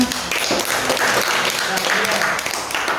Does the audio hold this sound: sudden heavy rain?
no